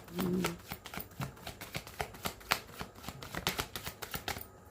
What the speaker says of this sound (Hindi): last shuffle Prabhu